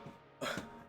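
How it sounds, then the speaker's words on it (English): Someone clears their throat once, a short rough burst close to the microphone against quiet room tone. "Gotta clear my throat again."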